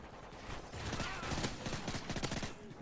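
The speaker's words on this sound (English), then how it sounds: "Just picked up a suppressed PM9." Rapid bursts of suppressed PM9 submachine gun fire in Modern Warfare 3, a steady close stream of muffled shots with sharp transients running nearly the whole time, layered with other game sounds.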